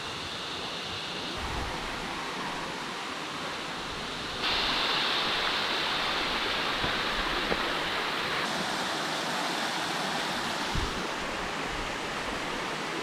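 Waterfall in D'Aguilar National Park near Brisbane, a steady broadband roar of falling water that swells louder partway through, continuous and fairly close with no voices.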